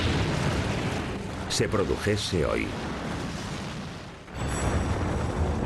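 A Yellowstone supervolcano mega-eruption explosion is rendered as a loud, continuous, deep roaring rumble that fills the whole stretch, briefly dipping before surging back, with a voice narrating over it.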